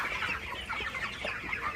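Broiler chickens around 36 days old and weighing roughly 2.5 kg cluck in a continuous overlapping chorus that sounds close and moderately loud, with no talking.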